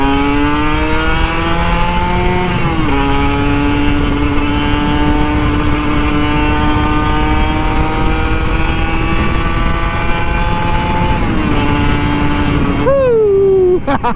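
Kawasaki Ninja RR 150 two-stroke motorcycle revving loudly nearby, holding high sustained rpm with two brief dips between throttle blips and a final drop off the throttle, no talking.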